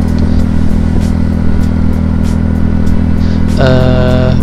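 Yamaha Mio J scooter fitted with an aftermarket exhaust idling with a steady deep, bassy drone, close and loud, swelling into a brief rev near the end.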